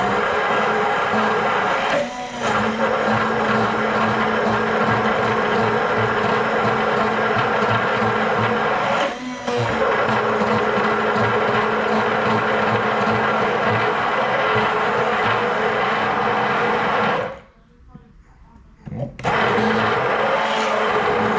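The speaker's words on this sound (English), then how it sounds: "I'm gonna take my little electric mixer here and just mix this all up really good" A small electric mixer whirs steadily as it mixes fish marinade in a big jar, a continuous buzzing drone with brief dips in speed and a short pause near the end before it starts up again.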